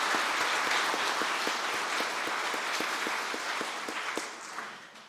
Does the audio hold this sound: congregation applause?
yes